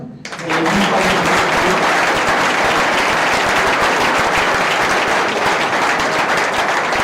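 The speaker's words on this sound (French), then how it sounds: "on peut les applaudir tous les 4" Audience clapping for four contestants at a pitch competition event in Tarbes, bursting in abruptly after a brief moment and continuing as loud, dense, sustained applause throughout.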